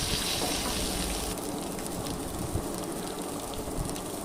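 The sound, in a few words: boiled potatoes frying in oil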